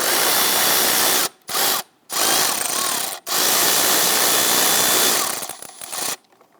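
A power tool whirs in short bursts while loosening a hose clamp on the air intake duct of a 2011-2023 Dodge Charger 3.6L V6, several close, loud runs broken by brief pauses.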